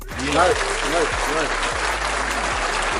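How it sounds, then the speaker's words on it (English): Applause from a crowd at a live sports talk show, a steady wash of clapping throughout with a voice talking over it. "Let's give a round of applause to his agent."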